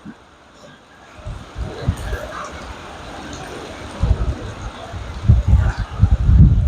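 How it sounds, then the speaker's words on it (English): Roaring wind rushes past in heavy, buffeting gusts that grow louder and rumble deeper toward the end. "there's a roaring noise from the wind"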